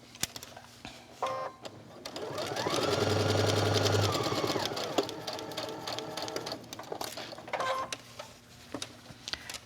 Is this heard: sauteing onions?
no